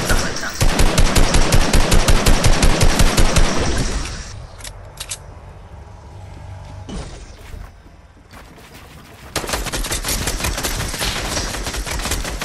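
Fortnite gunfire: a loud, rapid automatic burst is followed by a quieter stretch, then heavy continuous shooting returns near the end.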